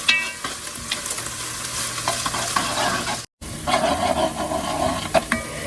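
Onions and green peppers for chili sizzle loudly and close in a hot pan while a spoon scrapes and stirs them in bursts, with a brief cut to silence midway.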